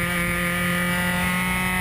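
Race cars run through turn one on a track, a continuous loud engine drone with steady tonal harmonics and no break.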